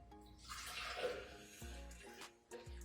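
One cup of almond milk pours into a blender for a fruit smoothie: a short, quiet liquid glug and splash close by, with a couple of soft knocks after.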